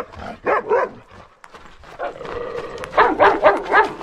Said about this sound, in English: we just about to be bitten by a dog.